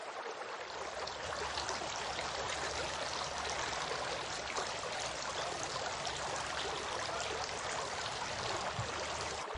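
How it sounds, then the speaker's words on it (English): Water runs steadily from a tap while someone washes their face during wudu ablution, a continuous close splashing flow with no pauses or voices. "He then washed his face 3 times."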